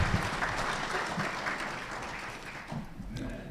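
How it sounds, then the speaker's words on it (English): Applause from a forum audience at a chamber of commerce political forum, a broad wash of clapping that gradually thins out, with faint voices mixed in toward the end. "give Rosa a round of applause"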